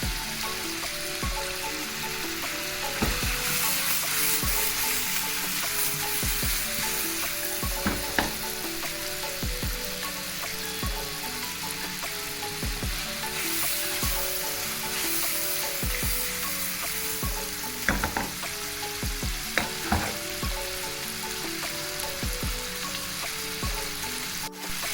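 Butter garlic prawns with chili flakes sizzle and crackle steadily in a pan over a high flame, with occasional sharp spits and stirring clinks, close and continuous with no talking.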